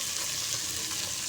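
Tinda, onions and vegetables fry in ghee, giving a close, steady hiss and sizzle with no pauses and no voices.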